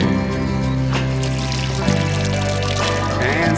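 Spring water pouring from a well in Glastonbury, a bright continuous splashing and trickling flow, loud and close, with a faint voice briefly in the background.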